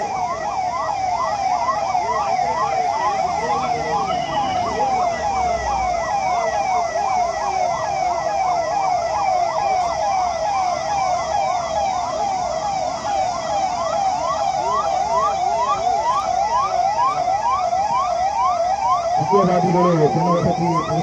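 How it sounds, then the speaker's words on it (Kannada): An ambulance siren wails continuously in a fast, repeating rising-and-falling sweep, loud and close throughout, with road vehicle noise beneath and a brief low rumble near the end. "ಆಂಬುಲೆನ್ಸ್ ಮೂವ್ ಆಗ್ಬೇಕು ನೀವು."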